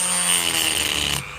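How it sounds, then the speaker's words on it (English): A Dremel cuts the cells out of a Milwaukee power-tool battery, a loud, close, high-pitched rotary whine that grinds steadily for about a second before cutting off. "This is where I cut the cells out of a Milwaukee battery with a Dremel."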